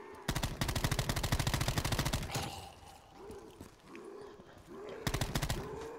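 Heavy automatic fire from a big gun in a custom zombies video game, a loud rapid burst lasting about two seconds, then quieter game sounds, then another short burst near the end.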